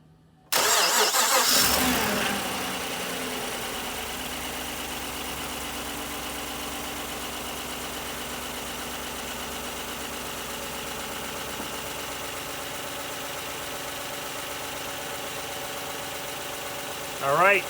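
A Chevy Silverado pickup engine cranks and catches with a loud roar after an exhaust manifold leak repair, then settles into a steady, even idle that runs on for many seconds.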